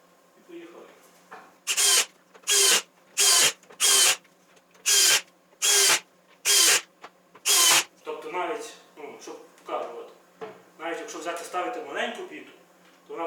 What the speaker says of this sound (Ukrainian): використовую от біти, дуже прикольний шуруповерт